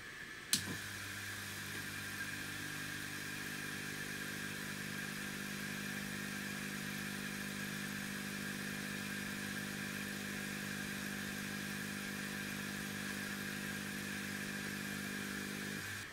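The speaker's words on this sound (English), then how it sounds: "So, test of the air pump, standard black hose and a brass nozzle." An air pump for a laser air assist blows steadily through a standard black hose and brass nozzle, starting with a sharp click and then holding an even, loud hum and hiss with no talking.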